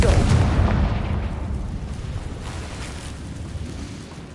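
A Confringo fire spell explodes in Hogwarts Legacy with a loud close boom that breaks into a crackling, rumbling roar and slowly fades over several seconds.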